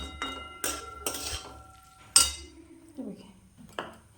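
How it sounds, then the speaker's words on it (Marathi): Dry gram flour is stirred into a fenugreek leaf curry in a pan, a spoon clinking and scraping against the metal in short, separate strokes with quiet gaps between them. "असं बेसन टाकायचं कोरड्याच्यात आणि हलवून घ्यायची भाजी"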